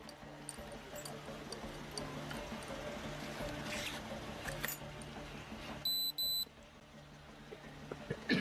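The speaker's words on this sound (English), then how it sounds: "Using a detector, they hear a beep indicating the presence of a weapon." A handheld metal detector beeps during a police check of a suspect for a weapon, short electronic bleeps rising above a busy room background, with a distinct pair of tones near the end.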